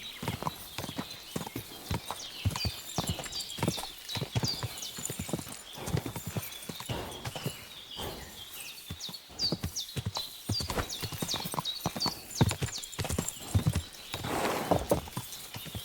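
Rapid, rhythmic clip-clop of horse hooves in the video game Kingdom Come: Deliverance II, trotting steadily and close by, with occasional brief whinnies over a continuous galloping beat.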